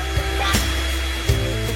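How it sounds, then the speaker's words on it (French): A hair dryer blows continuously at close range, a loud steady whirring roar with a few small knocks and shifts. "J'ai besoin d'un sèche-cheveux pour me réchauffer."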